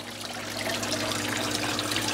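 Water trickles and splashes steadily from a leaking waterfall feature in a home fish room full of aquarium tanks, a constant soft wash over a low electrical hum, with no voices.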